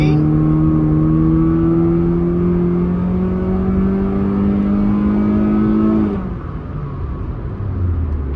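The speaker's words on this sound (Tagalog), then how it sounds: "Naririnig nyo sa 3K RPM, dun lumalabas yung crispiness ng exhaust natin" A Honda City GN fitted with a Kakimoto GTBOX 06&S exhaust muffler revs steadily, its droning note rising slowly for several seconds before dropping off as the throttle closes, loud and close.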